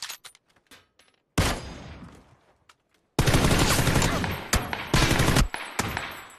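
Video game gunfire in loud automatic bursts: a sharp shot, then a long sustained burst, then several more volleys and single cracks, close and dominant.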